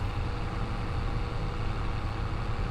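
Large tractor engine idling in Farming Simulator 25, a steady low rumbling drone held at an even level throughout, with no talking.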